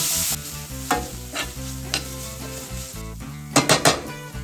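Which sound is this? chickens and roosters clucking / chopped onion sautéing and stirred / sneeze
chopped onion sautéing and stirred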